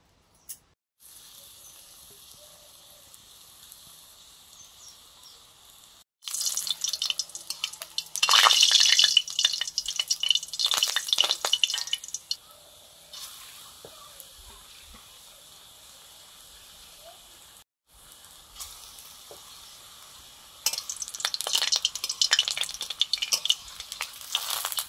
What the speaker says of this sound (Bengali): বড়াগুলো প্রায় ভাজা হয়ে এসছে